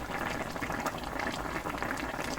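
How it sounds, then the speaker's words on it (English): Fish and tofu soup boils vigorously in a lidded pot, a dense, steady bubbling and gurgling that stays close and continuous with no talking. "Close the lid and let it come to a boil and cook for another 15 to 20 minutes"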